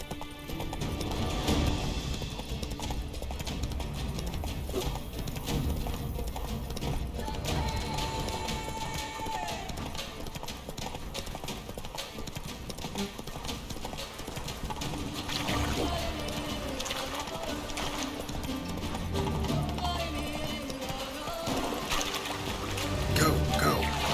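Hooves of Roach, Geralt's horse in The Witcher 3, clop steadily at a moderate pace through a long stretch, mixed with ambient game sounds, music and occasional talk.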